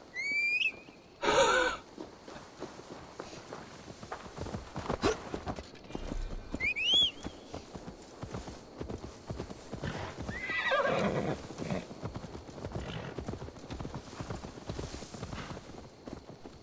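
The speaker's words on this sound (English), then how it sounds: "Now to deliver Magni his horse." Horse hooves clip-clopping and loud whinnies in the video game Assassin's Creed Valhalla, a sharp neigh near the start, then steady trotting with further snorts and whinnies.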